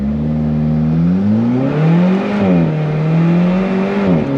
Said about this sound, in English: Love this sound. All the intake noise. You can hear the turbocharger, the wastegate.